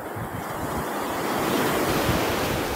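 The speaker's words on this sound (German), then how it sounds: "Man kann jetzt nicht erkennen, das Meer, aber ich denke auch, das Rauschen, das macht schon Spaß." Sea waves rush onto Titanic Beach in Lara at night, a loud, continuous surf roar with a broad hiss that swells slightly midway, mixed with wind buffeting the microphone and no talking.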